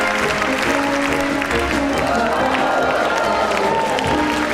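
An audience at a Tuba Bach 2016 show gives loud, continuous applause with some cheering throughout, while a voice talks over it.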